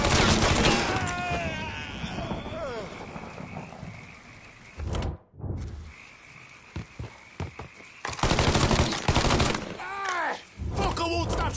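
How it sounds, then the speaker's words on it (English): Rapid gunfire bursts in the game Mafia 3, loud crackling volleys at the start and again near the end amid chaotic game effects, with someone shouting in between. "won't stop shooting!"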